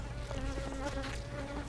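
Honeybees buzz steadily at an open beehive, a continuous close insect drone with a wavering pitch, heard alone and unbroken throughout.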